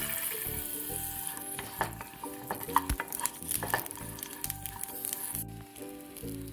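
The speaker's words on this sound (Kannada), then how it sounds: "ಈಗ ಇದನ್ನು ಚೆನ್ನಾಗಿ ಹುರಿಬೇಕು." Sesame seeds, peanuts and green chillies dry-roasting in a pan for a North Karnataka green chilli chutney, with a spatula scraping and stirring in a steady rhythm and light sizzling crackle underneath, close and moderately loud, with music playing.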